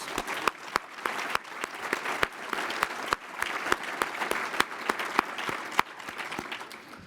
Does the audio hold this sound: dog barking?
no